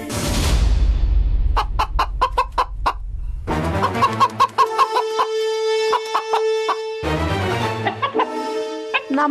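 A domestic chicken clucks loudly and close, a rapid series of sharp, rhythmic clucks building into sustained, drawn-out cackling calls, heard alone without talk.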